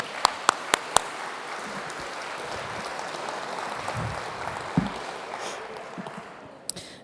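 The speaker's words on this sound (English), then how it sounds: "how about one more round of applause for that great music?" A large audience at an evening gathering applauds a choir and its director, a steady wash of many hands clapping from a distance, opened by a few crisp nearby claps.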